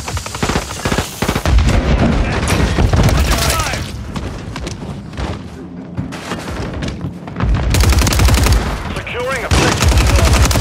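Dense gunfire from a Call of Duty Modern Warfare III multiplayer match: rapid bursts and booming shots rattle almost continuously, loud and close, with game voice callouts mixed in.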